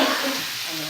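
Sliced bitter gourd (ampalaya) dropped into a hot pan to sauté, a loud burst of sizzling and stirring that eases slightly over less than a second, with faint voice tones underneath.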